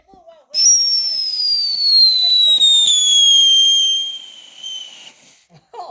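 A Piccolo Pete firework shrieks with one loud, sustained whistle that slowly falls in pitch for about four seconds during a Fourth of July backyard display, with faint crackles nearby.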